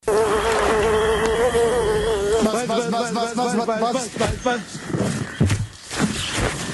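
Two mosquitoes in a swamp hum loudly in a film advert, a whining buzz that wavers in pitch, then gives way to scattered sounds and voices.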